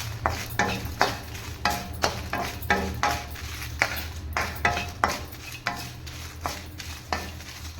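Dried red chillies roasting and being stirred in a pan for paruppu podi, a steady run of scraping strokes against the pan, about one every half second, close and fairly clear with a faint dry crackle beneath.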